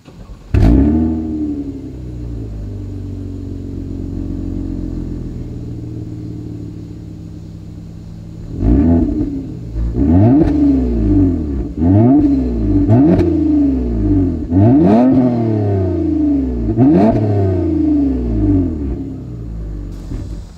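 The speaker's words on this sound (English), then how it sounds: "As always, here is that exhaust clip." A 2020 Toyota Avalon TRD exhaust idles with a deep burble, then revs sharply again and again in a steady rhythm of loud, rising bursts, close to the microphone.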